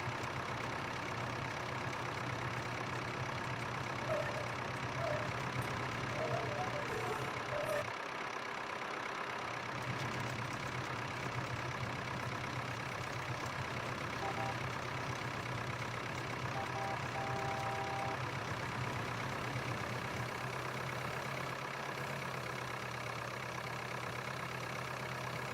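A tractor idles in Farming Simulator 2013, a steady low engine drone that runs unbroken for the whole stretch, with faint game clicks and tones over it.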